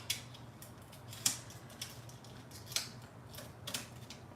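Scissors snip through a Dixie Belle furniture transfer being trimmed on a vintage piece, a few sharp close clicks spaced irregularly over a quiet background.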